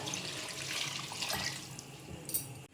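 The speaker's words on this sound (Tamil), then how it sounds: "புளித்தண்ணி ஊற்றிடுறேன் இப்போ" Tamarind water pours into a cooking pot for sambar rice, a steady splashing liquid stream that tapers off near the end, with no talk.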